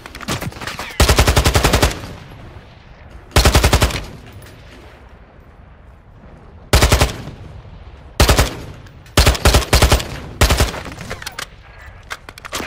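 Machine gun fire in the game Call of Duty DMZ arrives in loud, sustained automatic bursts of varying length, spaced by brief lulls of quieter ambient game sound.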